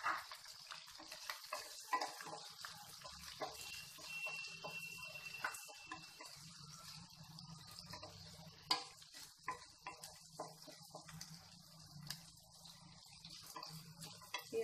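Sliced onions and curry leaves fry in hot oil, a faint, steady sizzle scattered with small ticking pops and occasional stirring clicks.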